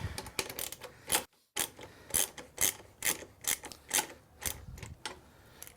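A ratchet wrench tightening a Yoshimura exhaust on a 2017 BMW R1200GS Adventure motorcycle: a string of sharp, fairly close mechanical clicks in short bursts, with a brief pause partway, and no talk.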